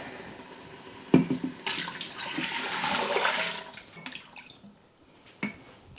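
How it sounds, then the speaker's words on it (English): Stock pours steadily over lentils into an Instant Pot pressure cooker for several seconds, a splashing rush with a couple of sharp clinks at the start and end. "pour in the stock."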